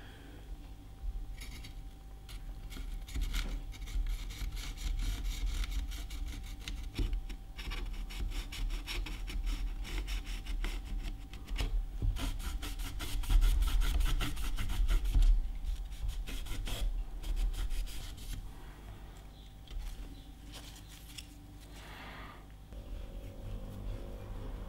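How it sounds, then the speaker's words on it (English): Very fine sandpaper rubs back and forth on the end of a plastic spudger during repair of a Fluke 87 multimeter, a quiet close rasping scrub in steady strokes, faint and alone. "Might try using some very fine sandpaper on the end of my plastic spudger here."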